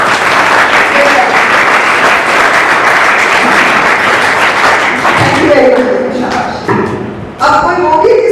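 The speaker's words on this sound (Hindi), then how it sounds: "जोर से सब तालियां।" A loud burst of audience applause for a child at a school speech event, dense clapping that fades after about five seconds into scattered claps and voices before swelling briefly again.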